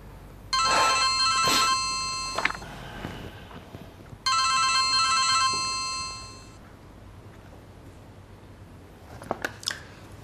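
A telephone ringtone for a late-night call plays in two long electronic bursts a couple of seconds apart, fairly close and clear, followed by a quieter stretch with a few small clicks.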